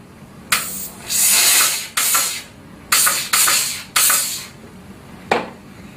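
A spray bottle wets a stain on fabric with a series of loud, close hissing squirts, about six bursts of varying length in an uneven rhythm, with no talking.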